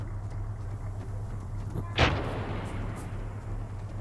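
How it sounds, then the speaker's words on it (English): Artillery fire in a military video game set during a town assault: a single heavy, booming blast lands about halfway through, rising sharply over a steady low rumble and fading quickly, with no speech. "I think that's artillery."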